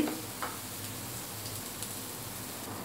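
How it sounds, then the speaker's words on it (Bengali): Kumro bori, small lentil dumplings, frying in hot oil in a pan, giving a soft, steady sizzle throughout with faint clicks and no voices. "এখন আমি চার পাঁচটা কুমড়ো বড়ি ভেজে নিচ্ছি"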